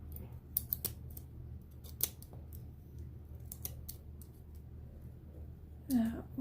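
Scissors snip a few times at the rim of a canning jar lid, quick sharp cuts scattered across a quiet room, with a brief louder rustle near the end.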